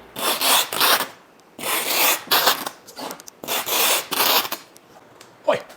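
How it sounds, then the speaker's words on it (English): Packing tape is pulled off a roll in long rasping strips, several loud ripping bursts in a row with short pauses, ending with a soft thump. "Love that sound of tape. Don't you guys love the sound of tape?"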